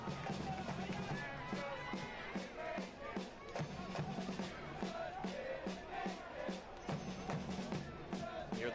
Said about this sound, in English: Hear the drumming of the supporters for this Greenville Triumph side, the Reedy River Riot.